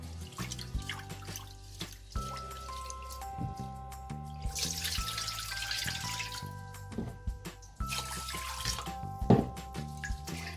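Glutinous rice is washed in water before cooking in an electric rice cooker, with splashing, swishing and trickling from a tap close by. The sound continues steadily, with sharper splashes toward the end.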